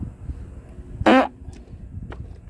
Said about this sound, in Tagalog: Sandali lang guys, utot lang ako.